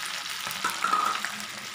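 Mint leaves, garlic and ginger fry in a pan with a steady, close sizzle. A few soft stirring scrapes sound over it, and no one speaks.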